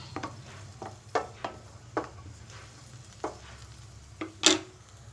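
Cashews and raisins fry in hot ghee for banana kheer, with a soft sizzle under intermittent scraping and clinking stirs, ending in a brighter, louder scrape.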